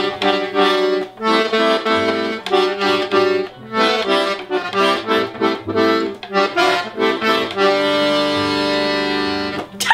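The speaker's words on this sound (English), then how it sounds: "I'm learning how to play Mary Had a Little Lamb." Accordion plays the simple tune Mary Had a Little Lamb, loud and close, with choppy repeated reedy notes and chords in a halting rhythm, ending on a long sustained chord.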